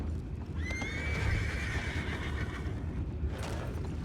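A horse in Red Dead Redemption gives a long, clear whinny over a steady low rumble, with soft hoof clops and another short neigh following near the end.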